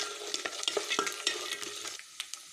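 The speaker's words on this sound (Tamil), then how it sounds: "பருப்புகள்லாம் சிம்லேயே வச்சு லோ ஃப்ளேமில் அப்படியே கிளறி விடுங்க." Lentils fry and get stirred in a pan over a low flame, with a soft continuous sizzle broken by a steady run of light scraping strokes, close and fairly quiet.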